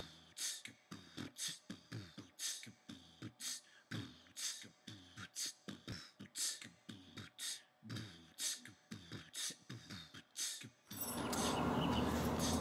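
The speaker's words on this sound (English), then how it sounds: "Now we're going to remove the 14mm bolt on the top of the caliper" A hand ratchet loosens the 14mm top bolt on a Jeep JK brake caliper during a big brake kit install, giving rapid rhythmic clicking bursts that repeat steadily and close up, then a louder broadband scraping at the end.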